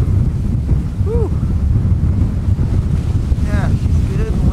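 Strong wind roars steadily outdoors in a gusty storm, buffeting the microphone with a dense low rumble throughout, and brief voice sounds rise over it.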